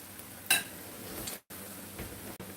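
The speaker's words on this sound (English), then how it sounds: "We're going to let these fry a minute" Salmon patties topped with onions fry in a pan, giving a steady quiet sizzle with a brief clatter near the start and two short dropouts.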